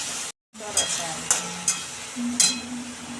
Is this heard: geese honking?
no